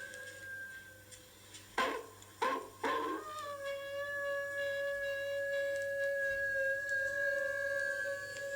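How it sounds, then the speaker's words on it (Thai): A dog howling at night in a village, long drawn-out wavering tones held steadily after a few sharp, louder cries at the start, moderately distant and without speech. "เสียงหมาที่ไหนหอนเนี่ย"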